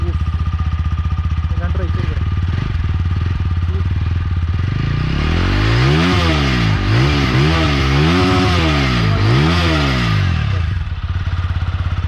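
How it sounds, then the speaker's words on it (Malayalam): A TVS Apache RTR 200 4V motorcycle, 2021 BS6 edition, idles with a loud, steady exhaust note, then revs up and down in several rising and falling pulls, recorded close by. "അപ്പോൾ എക്സോസ്റ്റ് നോട്ട് കേട്ടിട്ടുണ്ടാവും. വേറെ ലെവൽ എക്സോസ്റ്റ് നോട്ടാണ്"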